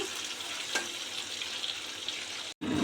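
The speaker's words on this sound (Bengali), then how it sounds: "এখানে কাঁকরোল ভাজা বসিয়ে দিয়েছি" Steady crackling sizzle of teasel gourd frying in hot oil, close by, with a brief sharp stir near the start and a momentary dropout near the end.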